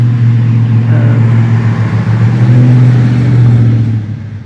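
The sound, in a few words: truck driving past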